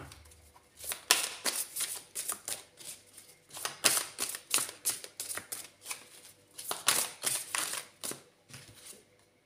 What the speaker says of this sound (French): j'avais oublié d'enlever les cartes. Je vais les enlever.